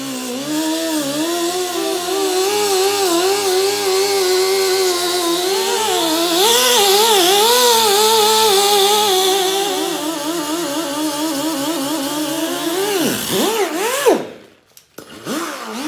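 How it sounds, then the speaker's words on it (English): An air-powered tool polishes the bottom of a cast iron skillet, giving a loud, continuous high-pitched whine that wavers in pitch as pressure shifts, then sputters and cuts out near the end. "this is what it looks like when you shine up the bottom of a cast iron skillet"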